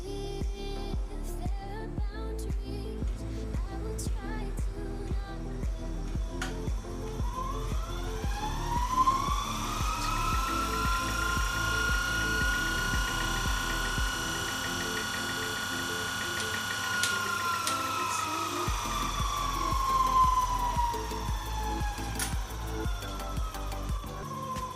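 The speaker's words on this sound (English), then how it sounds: "Notice the motor runs really fast in 30 volts, and when the armature power is turned off, the voltage only drops off slowly." An 1888 110 volt DC electric motor spinning fast and slowly coasting down, giving a steady mechanical whir with a rising and falling tonal whine and fine rhythmic ticking, fairly quiet throughout.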